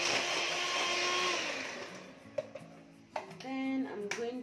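An electric mixer whirs loudly while eggs are beaten into cake batter, then fades into clinks and taps of a bowl and a brief restart of the motor, up close with no talking.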